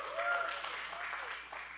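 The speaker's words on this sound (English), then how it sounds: "Another round of applause for" Audience applause for hula performers at Hawai'i Kuauli 2021, a brief, fairly faint burst of clapping with some voices mixed in.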